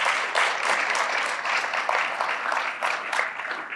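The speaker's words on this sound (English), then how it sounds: "if we could give another round of applause for our speakers." Audience at a research symposium on injury prevention applauds its speakers, a steady, dense wash of clapping from many hands filling the room, moderately loud throughout with no talk over it.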